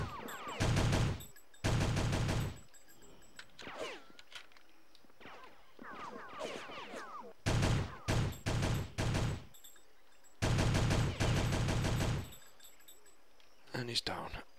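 Gunfire from guards being shot in the shooter game Conspiracy: Weapons of Mass Destruction, loud bursts of rapid automatic fire in several long volleys, separated by quieter stretches with someone talking.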